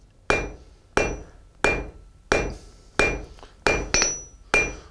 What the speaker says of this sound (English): Hammering, turning back and forth will compress the steel.